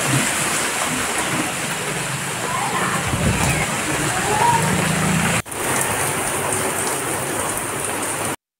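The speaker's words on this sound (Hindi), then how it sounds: "झमझम हो गई बारिश हो रही है कितनी तेज़ हवा चल रही है" Heavy rain pours down steadily with a loud, dense hiss, gusts of wind rumbling beneath it, continuous and close.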